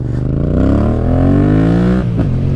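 A Yamaha MT-07 motorcycle engine revving up loudly and close, its pitch climbing steadily before a quick drop as the throttle snaps shut, with no voices.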